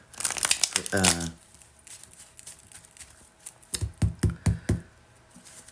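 Crisp rapid riffling of tarot cards at the start, then a few sharp taps and flicks of the deck, with a voice murmuring early on.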